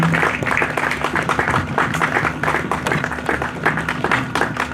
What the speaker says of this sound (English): Please put your hands together for him as he comes forward. Keep clapping, please.